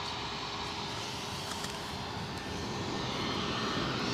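An EasyJet jet airliner's steady broadband roar passes overhead near Newcastle airport, continuous and fairly distant, with no voices.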